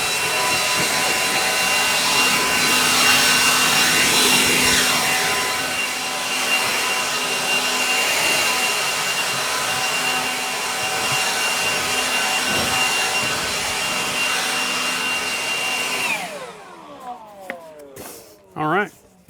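Battery-powered leaf blower running loud and close, a continuous roaring whoosh with a steady whine that holds for about sixteen seconds, then cuts off and spins down, followed by a couple of brief knocks.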